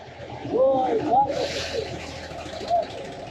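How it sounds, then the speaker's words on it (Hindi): Soft, low pigeon coos rise and fall a few times, close by, with some background rustle and murmuring voices. "मैंने कबूतर देखे ना, मैंने कहा यार यहाँ पे भी कबूतर"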